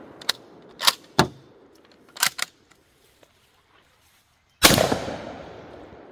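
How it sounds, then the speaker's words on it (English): A Mossberg bolt-action shotgun, a 20- or 16-gauge Model 185 or 190, fires shotgun shells outdoors. Several sharp, closely spaced reports come in the first few seconds, then quiet and one loud blast with a long decaying tail. "This is kind of fun shooting shotgun shells this way"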